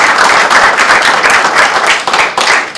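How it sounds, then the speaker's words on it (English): An audience at a high school board meeting claps for itself: loud, close, continuous clapping from many hands with a slight swell and no talk over it. "so clap for yourself"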